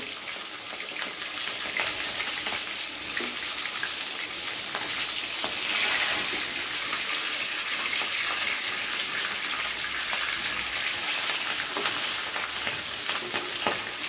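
Steamed eggs fry in hot oil in a pan, turned over with turmeric powder sprinkled on, giving a steady, close, continuous sizzle and crackle with no talking.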